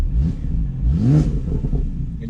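A Porsche 911 Targa 4S of the 991.2 generation, set to sport mode, revs hard: the engine note climbs and falls in one loud, close surge over a steady idle rumble.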